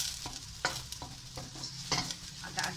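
Onions and garlic sautéing in oil for a garam masala meat or chicken filling: a steady sizzle with repeated scraping stir strokes of a utensil against the pan, close by.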